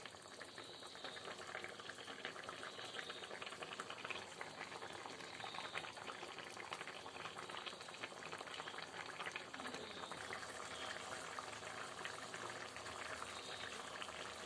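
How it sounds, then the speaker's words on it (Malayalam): A pan of anchovy fish curry liquid bubbles and simmers down steadily throughout, a constant close-up hiss and crackle with no talking. "ഇപ്പം നമ്മുടെ മീനിൻ്റെ വെള്ളം വറ്റിക്കൊണ്ടിരിക്കുക കേട്ടോ"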